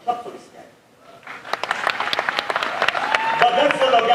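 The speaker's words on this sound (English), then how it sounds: "Ladies and gentlemen, and probably right now, another legend, Philip Swata, clap for this guy." Applause for Philip Swata at the iKON Awards 2023, starting sparse and growing into dense, steady clapping from the crowd after a brief lull, with some talk mixed in.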